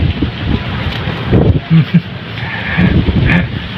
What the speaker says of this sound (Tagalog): Dagko na kaning bawda kay hangin man.